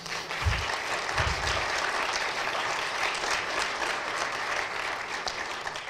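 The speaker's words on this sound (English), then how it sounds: "give her a round of applause" Steady applause from a crowd at a college town meeting, a dense wash of clapping that holds at an even level throughout without anyone speaking.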